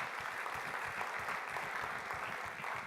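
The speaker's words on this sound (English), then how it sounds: "So both of them deserve a fantastic round of applause for all of the hard work and help they've done." Steady, moderately quiet applause from an audience at a business plan competition, continuous clapping filling the whole stretch without pause.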